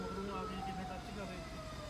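An ambulance siren at a car crash scene, its wavering tone faint and distant beneath steady background noise.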